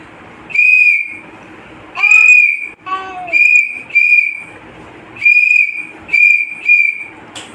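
A whistle blown to keep traffic moving sounds in a series of about seven loud, shrill blasts, close by, in uneven short bursts with brief gaps and no voices.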